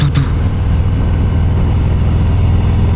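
Harley-Davidson FXDR 114 motorcycle engine in second gear at about 25 km/h, a steady low rumbling drone held close and loud throughout, with a brief higher burst at the very start.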